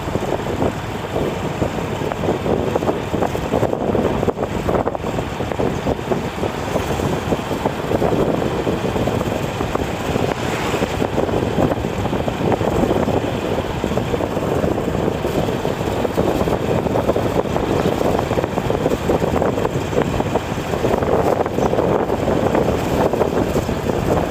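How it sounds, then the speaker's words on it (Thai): Strong wind roars across the microphone outdoors in Non Narai district, Surin province, Thailand, a steady broadband buffeting that lasts throughout with no speech. "วันนี้ลมแรงมากนะครับ"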